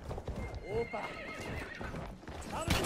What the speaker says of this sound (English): Yeah, but I'm just on a horse right now.